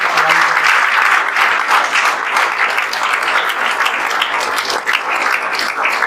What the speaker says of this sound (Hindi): आपके दोस्त आपके लिए ताली बजा रहे हैं सब